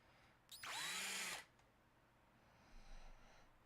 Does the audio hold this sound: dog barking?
no